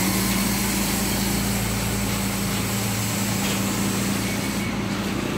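A motorcycle engine runs steadily at idle in Taal, Batangas, a constant low hum with a buzzing drone that holds at an even level throughout, with no talk over it.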